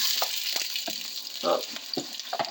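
Onions sear in hot oil over high heat, giving a steady loud sizzle broken by short clattering stir and pan noises.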